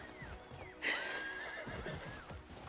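A horse in the video game Crimson Desert whinnies sharply and close by over a soft, steady patter of hoofbeats on a road, at moderate volume with no talking.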